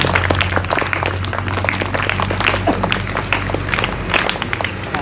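Steady applause from a seated audience at a Zilla Parishad Bhandara education programme, thanking the Vinoba team, with dense continuous clapping, close and loud, holding evenly throughout.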